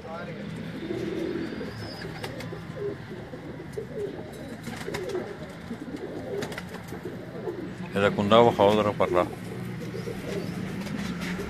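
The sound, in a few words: Cheena breed pigeons cooing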